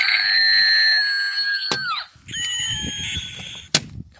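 Screaming Scream novelty toy lets out a loud, sustained shrill scream with a wavering pitch, cuts off, then screams again after a short pause, with sharp clicks between the bursts.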